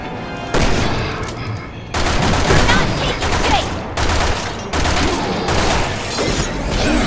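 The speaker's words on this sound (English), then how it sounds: "I got that fucking boss gun" Heavy automatic gunfire from a boss gun in Resident Evil 6 erupts in loud sustained bursts, several long volleys separated by brief pauses, close and dominant.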